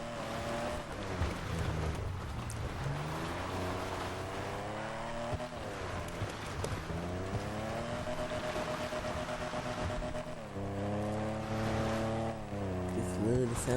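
Mercedes-Benz 300 SL Gullwing in GTA Online, its engine revving and shifting through gears in repeated rising pulls while driving, steady and close under faint traffic noise.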